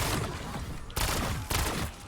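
Gremlin SMG in Black Ops 7 firing full-auto with double tap, a dense buzzsaw-fast stream of shots in loud bursts with brief gaps between them.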